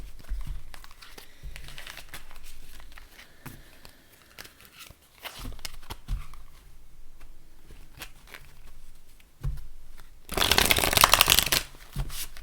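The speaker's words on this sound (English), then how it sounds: "start shuffling the deck" A deck of cards is shuffled repeatedly in a quiet room, soft riffling patters throughout, then a loud close burst of riffling near the end.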